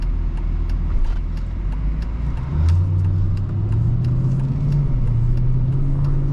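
A 2007 Mercedes-Benz SL55 AMG with its supercharged M113 V8 drives steadily, a loud, continuous engine drone that rises in pitch as it accelerates, with faint clicks over it and no talk.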